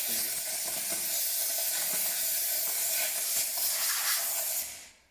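A steady, loud hiss of steam jetting from a steam cleaner nozzle onto a bike for several seconds, then cutting off abruptly at the end.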